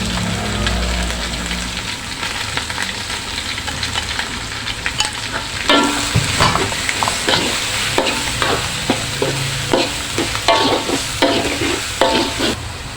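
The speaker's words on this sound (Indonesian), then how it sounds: "Lalu kita masukkan cabai hijau yang di blender tadi ya teman-teman." Blended green chili sizzling as it fries in a pan for Minangkabau ayam koto gadang, with steady crackling and repeated scraping stirs of a spatula throughout.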